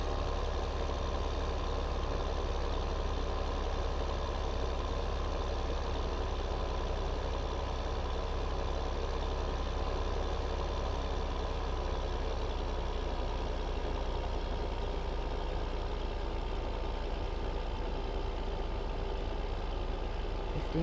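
A beefy tractor engine in Farming Simulator 2015 rumbles steadily and evenly at low volume, droning without a break or any talk while it works hard pulling uphill.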